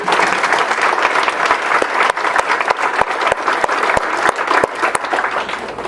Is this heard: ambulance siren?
no